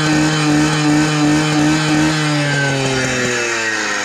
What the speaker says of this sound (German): Erstmal Vollgas geben.